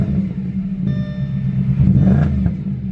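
An Audi S4 Quattro engine runs close by with a deep, steady idle rumble that swells briefly as the revs rise, then settles back, with no talk over it.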